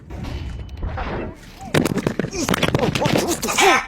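Counter-Strike 2 gunfire while running and gunning: rapid sharp weapon shots crack in a dense burst over game sound, preceded by a brief spoken voice, close and loud with whistling tonal effects between the shots.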